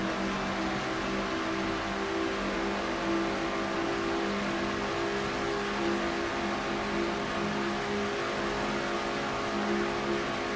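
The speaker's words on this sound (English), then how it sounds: "that's what it's like to ride in a pack of cars at Michigan at over 190 miles per hour" Pack of race cars at Michigan speeding at over 190 mph, a steady, loud engine drone with sustained whining tones that stays even and close throughout, with no talk.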